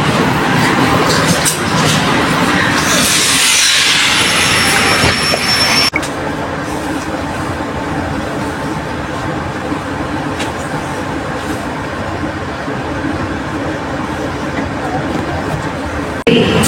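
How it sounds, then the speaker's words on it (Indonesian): A Progo economy passenger train sits at Pasar Senen station, a steady rumble and hiss of the train and platform filling the scene, with a shrill tone early on and a sharp knock near the middle. "kita berada di samping kereta ekonomi 8 dari kereta api Progo Pasar Senen LPN"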